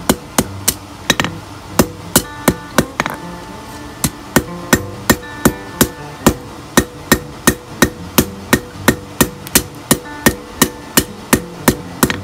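A hammer strikes hot steel on an anvil, rounding out a forged taper on a hook. The blows are steady, evenly spaced and ringing, heard alone and close up.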